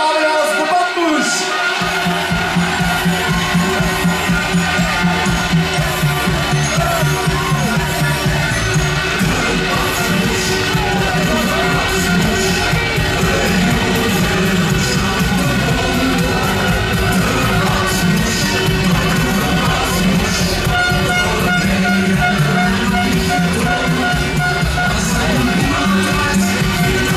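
Audience at a contestant introduction roars with sustained cheering, shouting and applause, a loud dense crowd din that continues steadily after an announcer's voice at the start.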